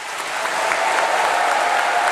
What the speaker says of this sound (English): extend a warm round of applause for our newly qualified doctors.